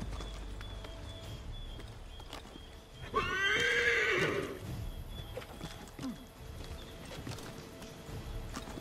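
A horse in Assassin's Creed III gives one loud, close whinny amid ambient game sounds, with soft hoof clops before and after over a steady background.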